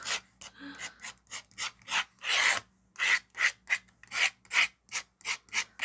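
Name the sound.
scratching glossy cardboard packaging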